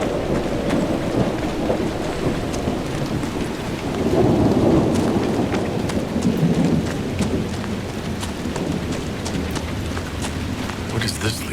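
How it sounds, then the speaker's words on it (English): A heavy thunderstorm from Crestwood in Dragon Age Inquisition, with steady loud rain and a deep rolling thunder swell in the middle. Crackling drops continue throughout, and someone speaks over the storm. "Hear the thunder."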